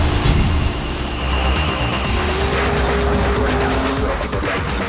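A blown big-block Chevy drag race car runs down the strip at a Pinks All Out event in Indy, a loud sustained engine roar with tire noise, steady and fairly distant-sounding, without talk.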